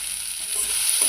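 Ground spice paste of ginger, cumin, green chilli, salt, turmeric and tomato hitting fried onion in a pan: a steady hissing sizzle with a soft stir, close and continuous, no voices.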